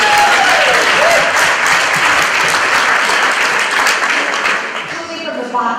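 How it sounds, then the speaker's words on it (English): Loud, close applause from a school community audience at an evening event at Converse Elementary, with voices mixed into the dense clapping before it gradually tapers off. "give yourself a round of applause."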